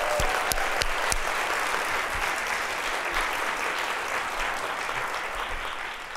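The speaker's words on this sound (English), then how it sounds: "Can I have a big round of applause?" A conference audience at the Stanford Food Summit breaks into sustained applause, dense clapping that stays loud and even for several seconds with no talk over it.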